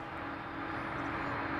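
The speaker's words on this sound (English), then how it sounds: "You can hear the whine of the tri-jet behind me." A tri-jet airliner at DFW International Airport produces a steady, droning jet-engine whine with a constant tonal hum, moderately distant, and no one speaks.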